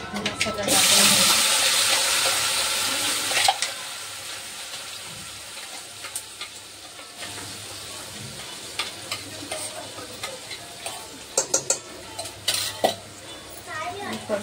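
Mustard seeds, cumin and curry leaves being sautéed in a pan for duduk vada bhaji: a loud hiss at the start, then steady crackle with scattered stirring and clinking of a spoon against the pan.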